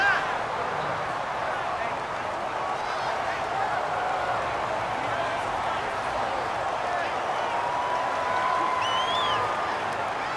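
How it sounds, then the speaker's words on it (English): Video game stadium crowd in Madden NFL 19, Jets against Titans, a continuous broad roar of cheering that swells slightly toward the end, with commentary voices over it. "the crowd getting into it as we come up on a big 3rd down"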